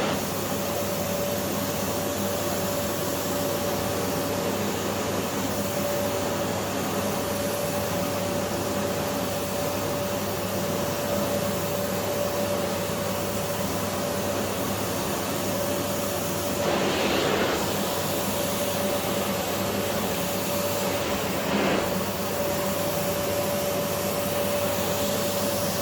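Compact bagless Philips Power Pro FC9331 vacuum running continuously, a low, even motor drone with a steady whine and a couple of brief airy swells, no talking.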